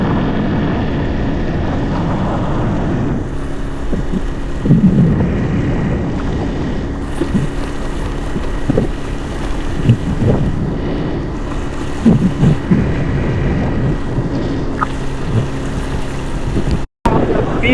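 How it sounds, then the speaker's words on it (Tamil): A steady motorboat engine drones over rushing wind and water off Pulau Tioman, Malaysia, with a voice speaking briefly now and then. "இப்பயாச்சும் மோட்டர்லாம் போகுது"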